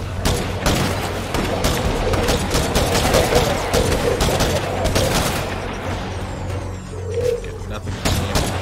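Sustained gunfire from a State of Decay 2 firefight, dense and loud with rapid overlapping shots and bursts running the whole time, mixed with game noise and a speaking voice.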